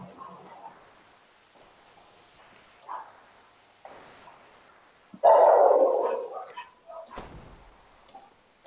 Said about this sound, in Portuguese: Os cachorros da rua estão fazendo uma festa aí na frente da casa?